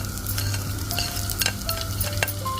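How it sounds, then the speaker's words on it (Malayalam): Grated coconut and onion frying in hot coconut oil over medium heat, a steady close sizzle with scraping stirs and small crackles, no talk. "എണ്ണ ചൂടായിട്ടുണ്ട്. അതിലേക്ക് നമുക്ക് തേങ്ങയും ഉള്ളിയും കൂടി ഇടാണ്."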